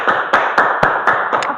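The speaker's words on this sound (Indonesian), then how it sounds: "Boleh tepuk tangan" Students in a microteaching physics class on the coefficient of restitution clap together in a short, steady burst of close applause, with sharper individual claps standing out at a quick, fairly regular pace.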